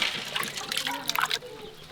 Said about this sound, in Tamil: நன்னாரி நல்லா வத்திரிச்சு ஊற்றிடுவோம்